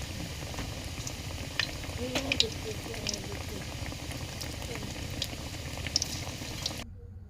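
Bora fritters frying in hot oil, a steady close bubbling sizzle with small pops and crackles running throughout before cutting off near the end.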